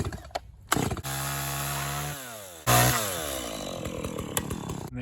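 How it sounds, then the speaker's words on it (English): A chainsaw rips lengthwise down the middle of wooden fence boards, revving up in two loud sustained cutting passes with brief idle dips between, close by and without talk. "I'm going to run the chainsaw right down the middle"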